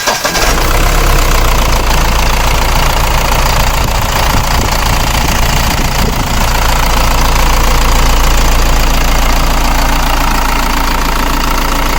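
A 2014 Mahindra Bolero ZXL diesel engine idles loud and close, with a steady knocking clatter and a deep rumble that runs unbroken the whole time.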